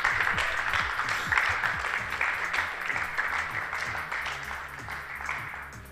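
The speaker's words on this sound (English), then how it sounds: "give a big round of applause to Matt Richards" A crowd at a motor racing awards ceremony at Donington Park applauds steadily for a podium finisher, the clapping dense and continuous and slowly fading.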